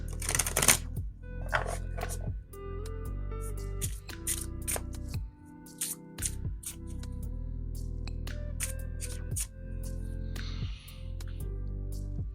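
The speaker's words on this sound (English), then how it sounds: "the way I'm just riffle shuffling this like no big deal" A deck of large playing cards is riffle shuffled, giving quick crisp bursts of fluttering card clicks repeated at intervals over a low steady hum, close and fairly quiet.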